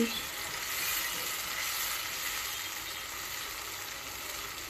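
A spiced egg mixture with cumin and coriander powder sizzles in a pan for North Bengal egg fuljhuri, giving a steady, fairly quiet hiss with faint crackle and no talking.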